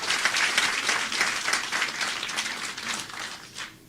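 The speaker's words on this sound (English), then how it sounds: "I want you to please give yourselves a round of applause just for that" A loud crowd at a police marathon awards ceremony applauds themselves, with thick, continuous clapping that holds steady and then thins toward the close.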